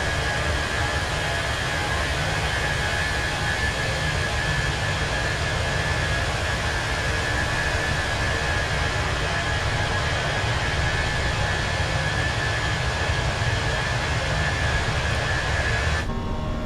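Steady roaring drone of SAS A320 jet engines during a thrust climb out of Aberdeen in Microsoft Flight Simulator 2024, a constant broad hiss with a faint whine, loud and unbroken throughout.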